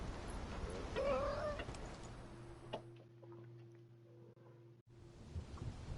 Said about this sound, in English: That's a weird cat.